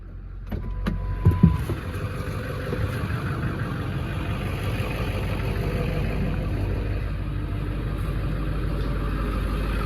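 An old million-mile truck engine runs after sitting unused for a year, a steady idling rumble that starts with a few clicks and a brief louder burst, then holds at an even level close by with no talk.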